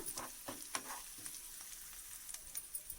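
Carrot and cabbage pieces fry in a pan with onions and green chillies for meal-maker fried rice, a soft, steady sizzle broken by light scraping stirs, close but quiet.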